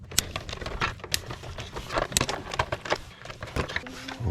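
Small bronze T10 Torx screws are worked out of a 2005 Nissan Frontier center console, giving rapid, dense clicking and ratcheting up close, with no pause over the whole stretch.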